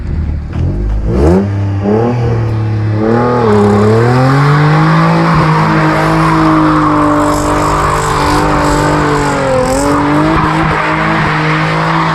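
A Nissan 350Z doing donuts: loud engine revving with sustained tire squeal and skidding, the engine note rising and holding steady close by for the whole stretch, with no talking.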